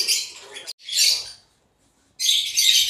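Caged African lovebirds and cockatiels chirp in shrill, busy bursts at close range, with one short silent pause between the bursts of calls.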